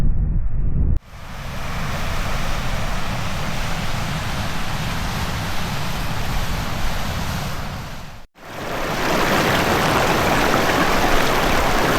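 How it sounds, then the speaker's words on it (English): Waterfall and snow-edged mountain stream in the Scottish hills near Beinn Dearg and Beinn Mheadhonach, a steady loud rushing roar with no talk, broken by a brief dropout near the start and another around eight seconds. "Nice waterfall down there."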